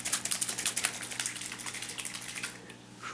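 Water is shaken inside a container while a new 150-litre aquarium is set up, giving quick rhythmic sloshing bursts that start strong, then slow and fade, with no talk.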